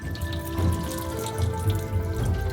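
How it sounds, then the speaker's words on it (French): Steady running cold tap water splashing and gurgling over noodles in a colander in a sink, close by and continuous. "Bien sûr, il faut aussi les rincer à l'eau froide."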